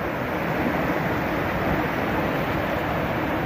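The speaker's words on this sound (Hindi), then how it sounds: "आपको इस झरने की आवाज़ सुनाता हूँ, देखो कितनी अच्छी आवाज़ आ रही है, बिल्कुल नेचुरल आवाज़ आ रही है इस झरने की।" A mountain waterfall on the Kedarnath trail pours with a close, unbroken rushing roar, a dense broadband hiss of falling water at constant loudness with no voices over it.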